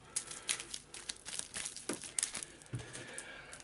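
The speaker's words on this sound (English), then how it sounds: "give it a shuffle" Playing cards of an Arkham Horror card game's encounter deck being shuffled, a run of soft crinkly riffles and taps with a few sharper flicks, close and quiet with no talking.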